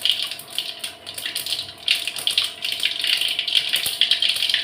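Mustard seeds splutter in hot oil in a home kitchen, a dense, loud crackling and popping that surges and dips in waves throughout.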